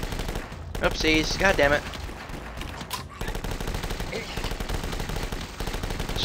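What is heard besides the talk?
gunfire in video game The Last Stand 2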